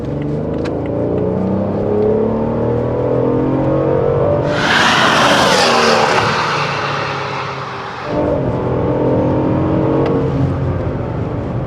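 BMW M760i V12 engine breathing through a valved aftermarket exhaust, a loud smooth drone that surges into a sharp rising rev with rushing air, then drops back to a steady cruise, close with no talk.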